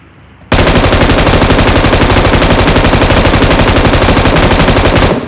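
Sustained automatic gunfire aimed at a BRDM armored vehicle in the mobile game PUBG Mobile, a loud, rapid, unbroken burst starting abruptly after a brief quiet moment and running about five seconds with no talking.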